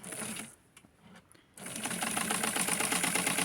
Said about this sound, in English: So you want to continue with the stitching in this area for the pocket.